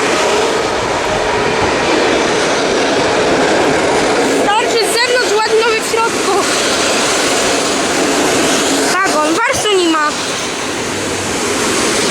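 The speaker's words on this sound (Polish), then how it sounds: "Wjeżdża opóźniony pociąg Intercity Podlasiak" Delayed Intercity Podlasiak passenger train arriving at a Polish station, a loud, steady rumbling roar of wheels and cars rolling past up close, with brief squeals and tonal brake or horn-like bursts partway through.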